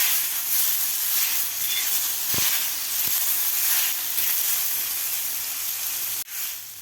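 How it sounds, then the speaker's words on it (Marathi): Finely chopped tomato roasting with onion and coconut in a pan, a steady loud hiss of steam and sizzle throughout, with a couple of faint clicks and a brief knock near the end. "ते सुद्धा आपल्याला कांद्याबरोबर आणि खोबऱ्याबरोबर व्यवस्थित भाजून घ्यायचं आहे."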